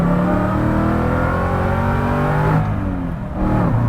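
A Revology 1968 Mustang Fastback Cobra Jet accelerates hard, a loud close engine roar climbing in pitch through a gear change, with a brief dip before revving up again.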